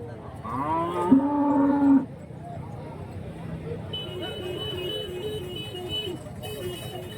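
A cow moos once, loud and close, at a weekly Sunday cattle market in Santhipuram, followed by someone talking over faint background noise and distant traffic.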